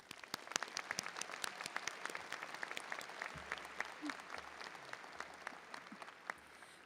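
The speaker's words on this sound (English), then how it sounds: "Please join me in giving them a round of applause." A commencement audience applauds steadily, many hands clapping in a dense, continuous patter that sounds moderately distant and fills a large hall.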